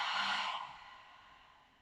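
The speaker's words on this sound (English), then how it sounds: "inhale deeply into your nose. And exhale everything out." A deep exhale during a gentle yoga flow, a soft, airy breath out through the mouth that starts fairly close and fades away steadily over under two seconds.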